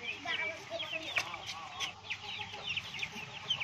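DP Cross chickens in a compartment of a terrace poultry shed cluck continuously, with overlapping bird calls close by at a fairly steady level.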